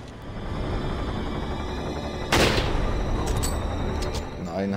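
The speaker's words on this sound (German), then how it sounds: "Zwei Schüsse." Gunfire in the video game Resident Evil 4, with a sharp, loud shot cutting through ongoing game noise midway and a fainter burst soon after, all over a continuous low background rumble.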